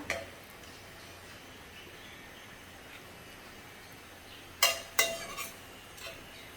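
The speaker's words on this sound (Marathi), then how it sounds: "आता सर्विंग प्लेटमध्ये काढून घेते" Country chicken rassa curry being served from the pot onto a serving plate: mostly quiet, then a few sharp clinks and scrapes of utensil on dish near the end, with no talk.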